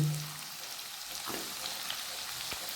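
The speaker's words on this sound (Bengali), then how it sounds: "পেঁয়াজটাকে একটু ভেজে নেব" Finely chopped onions fry in hot oil tempered with cinnamon and cloves, giving a faint, steady sizzle with occasional soft stirring scrapes, quiet and close.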